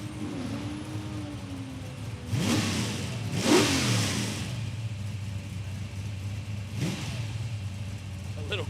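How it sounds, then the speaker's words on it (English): A drag racing car at Palmyra Raceway, Australia, revs through a burnout; loud broadband roaring bursts rise and swell over a steady engine drone, with a commentator talking over it. "Haley Scott going to have another crack at the burnout"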